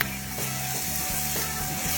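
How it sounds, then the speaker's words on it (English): A blackened steak sears in a hot pan for a chili, giving a steady broadband sizzle with a few soft clicks of movement. It is close and fairly quiet, with no talk. "So let it sear off here for about 2-3 minutes."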